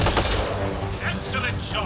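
Gunfire in the game Mass Effect Andromeda, a dense, loud clatter of overlapping shots and booms with combat noise running throughout and voices mixed in.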